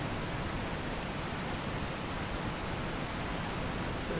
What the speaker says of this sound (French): Pendant que j'envoie cette tonne d'acide dans le bassin à batterie en dessous.